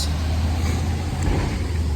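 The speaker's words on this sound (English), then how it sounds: "FedEx truck." A FedEx delivery truck driving past, a loud steady low engine rumble with road noise close by, no voices.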